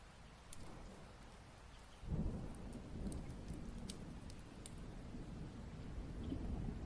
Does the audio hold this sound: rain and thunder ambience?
yes